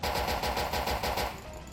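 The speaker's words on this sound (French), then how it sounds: "Pistolet." A pistol fires in rapid succession in the video game S&box, a fast string of loud close shots over roughly a second that gives way to a quieter game ambience.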